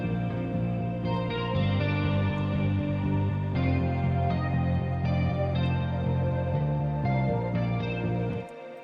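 Dreamy indie pop arrangement built in FL Studio from plugin instruments, with a sustained, layered melody washed in chorus and reverb, playing continuously and alone before fading out abruptly at the end.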